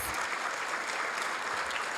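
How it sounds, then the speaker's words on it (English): An audience at a volunteer awards ceremony applauds, a thick continuous crowd of clapping hands at steady volume across the whole moment. "give everybody a huge round of applause"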